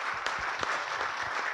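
An audience at a corporate HR panel discussion applauds a guest taking the stage, brisk continuous clapping with a few louder individual claps standing out.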